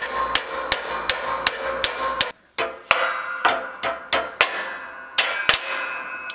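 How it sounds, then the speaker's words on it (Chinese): Damaged bushing hammered out of a Chevrolet Camaro door hinge: about a dozen sharp, close metallic strikes in an uneven rhythm, with one brief pause midway and no talking. "拆下后的第一时间就将上面损坏的底部衬套给敲了出来"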